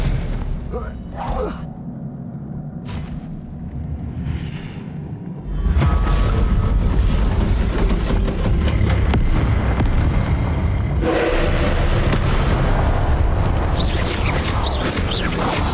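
Confringo blasting-spell explosions in a Hogwarts Legacy boss fight boom out amid rumbling battle noise, quieter at first and then a sustained loud roar of blasts and mechanical clatter from about six seconds on.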